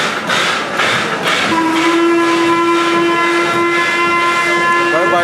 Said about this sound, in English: Our train is here. Check the train out.